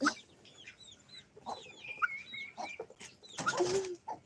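Chickens cluck and chirp in short bursts, with a few sharp higher calls and brief wing flutters, fairly close by.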